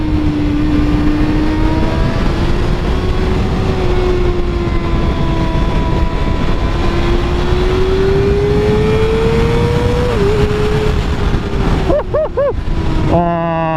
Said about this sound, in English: I'm checking the rev limiter because this thing will just keep revving.